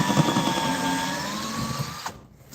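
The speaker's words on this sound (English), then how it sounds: "Don't cut straight edges with the chainsaw" A chainsaw cutting wood whines steadily with a high pitched engine tone for about two seconds, then cuts out abruptly, leaving quieter background noise.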